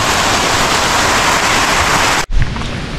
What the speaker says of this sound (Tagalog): at medyo lumakas na po yung ulan.